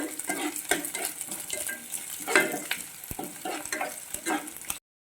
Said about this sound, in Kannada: ಬೆಳ್ಳುಳ್ಳಿ ಪೇಸ್ಟನ್ನು ಹಾಕೊಂಡು ಹುರ್ಕೋಬೇಕು